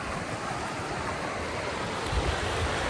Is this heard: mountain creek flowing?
yes